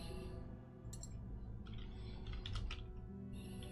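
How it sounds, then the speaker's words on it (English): Fast irregular clicks of typing on a computer keyboard come in quick clusters close to the microphone over a low steady hum, with no talking. "DM is typing."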